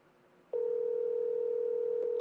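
A steady telephone dial tone starts abruptly after a moment of quiet and holds at an even, moderate level to the end, with no voicemail answering and no voices.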